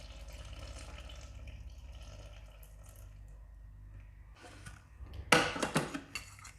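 Water poured into a bowl of bread dough made with flour and a little salt, a burst of splashing and gurgling near the end after quiet kitchen background, close and fairly loud.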